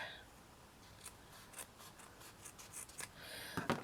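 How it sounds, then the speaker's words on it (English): Scissors snipping off the excess from a small paper flower filler, with a few faint, close, soft cuts and rubbing sounds in a quiet room and no talking. "what I'm going to do is to snip that off"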